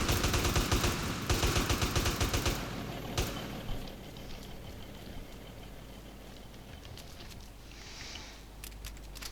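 Rapid bursts of gunfire crackle at the start, fairly distant, followed by a few scattered shots over a low rumbling background.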